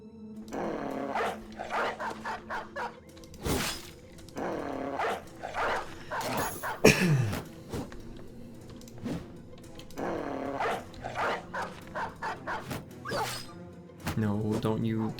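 Dog barking and growling in a Southern Mercenaries video game, several sharp barks and snarls spread across the stretch with a brief whooshing swipe in the middle, loud and close amid game sounds.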